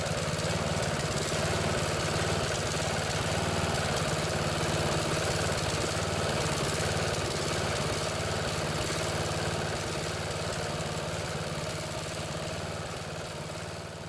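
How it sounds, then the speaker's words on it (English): An old Briggs & Stratton OHV engine on a riding lawnmower idles steadily throughout, with a constant close, loud droning rumble and no talk; the engine's carburetor needs work. "One could use a little bit of carburetor work, but it still runs and works."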